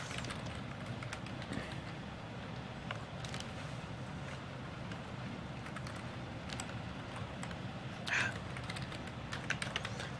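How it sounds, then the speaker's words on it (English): Quick, light keystrokes on a computer keyboard, someone typing while logging into a user account, come as faint scattered clicks over a steady background hum. "Fingers going all over the keyboard here."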